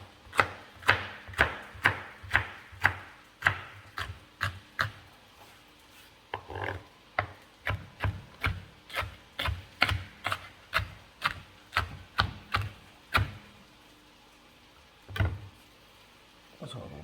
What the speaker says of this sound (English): And I'm just going to kind of chop these up like so.